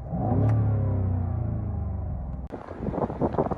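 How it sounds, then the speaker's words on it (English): The V8 engine of a BMW M550i sedan revs, rising from a deep rumble into a strong snarl, then a sharp crackle as the revs drop, heard loud and close. "Let's even give the engine a little rev."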